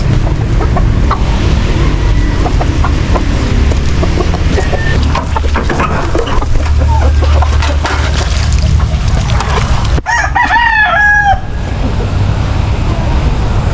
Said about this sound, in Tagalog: isang tandang